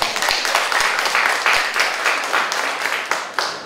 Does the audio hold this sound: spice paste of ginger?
no